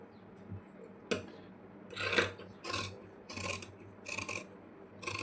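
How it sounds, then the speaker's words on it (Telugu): Marking a shape on blouse fabric before cutting: a series of short, raspy rubbing strokes, close and fairly quiet, coming in bursts of about half a second with brief gaps between them, with no talk. "ఇక్కడ షేప్ తీయాలి మార్కింగ్ చేస్తున్నాను చూడండి ఈ షేప్ కోసం మార్కింగ్ ఇంతే"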